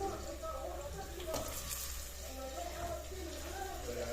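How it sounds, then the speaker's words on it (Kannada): Onions and potatoes frying together in a pan for a pulao, giving a steady, close sizzle with faint stirring and soft background voices. "ಲೈಕ್ ಆನಿಯನ್ ಕೂಡ ಆಲೂಗಡ್ಡೆ ಕೂಡ ಫ್ರೈ ಆಗಲಿ"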